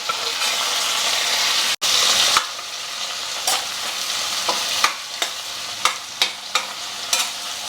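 Chillies, ginger, onion and tomato fry in a pan with a loud, bright, hissing sizzle that cuts out for a moment, then settles into continuous frying punctuated by repeated scraping clinks of stirring; no one speaks.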